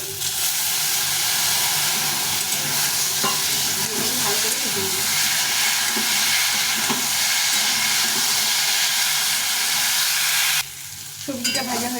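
Turmeric powder and a little water go into a hot pan for a thin Bengali fish curry, giving a steady, loud sizzle and hiss with stirring throughout that cuts off abruptly near the end.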